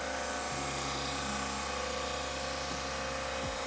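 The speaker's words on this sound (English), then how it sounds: "this is a drum sander." A drum sander runs in a woodshop, giving a steady broadband whir with a low motor hum that shifts pitch briefly near the start and again toward the end.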